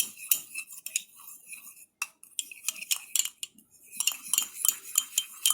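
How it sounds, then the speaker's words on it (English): A spoon stirs cookie mixture in a bowl, clinking and scraping against the sides in quick irregular taps, close and clear with brief pauses between strokes. "So you're just gonna stir that in, let it completely dissolve."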